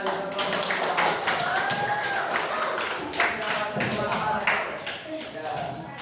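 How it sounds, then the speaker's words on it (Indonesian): A classroom claps for a student group, with scattered, uneven hand claps and taps running steadily through the room while a voice talks over them. "tepuk tangan untuk kelompok"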